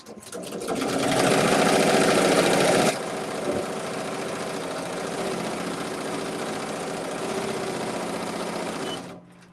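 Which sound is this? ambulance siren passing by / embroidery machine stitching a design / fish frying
embroidery machine stitching a design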